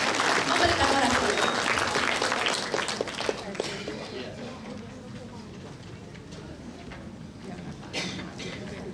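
Hearty applause from an audience gathered for an academic oration ceremony, dense and clapping loudly at first, then gradually thinning and fading as a voice begins speaking over it.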